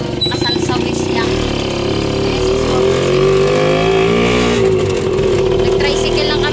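A motor tricycle engine hums steadily while riding a short distance through a Philippine town, a continuous low drone mixed with road noise, with voices talking over it throughout.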